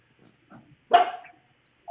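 A dog barks indoors during a chat at a bowling alley: soft scuffling and a small yip lead up to one sharp, loud bark, followed briefly by the start of another.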